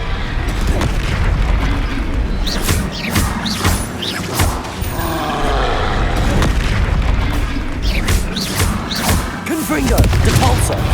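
Repeated Confringo blasting-spell explosions in the Hogwarts Legacy video game, loud booming bursts recurring every second or two amid continuous dense combat noise, with other spell effects and shouted incantations mixed in.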